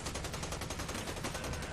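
Rapid automatic gunfire from several shooters in a competitive team shooter match during a bomb plant, a dense, continuous volley of shots filling the whole moment loudly with no talk.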